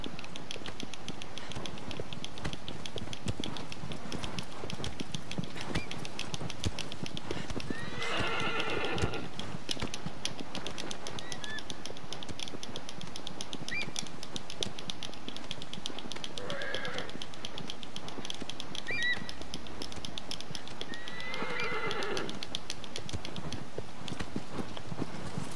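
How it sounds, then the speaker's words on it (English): A horse gallops steadily in the Shadow of the Colossus video game, its hoofbeats a rapid, continuous clip-clop. Several short neighs and whinnies break through the galloping. The setting is an outdoor game world with a constant background wash. "This horse is so slow."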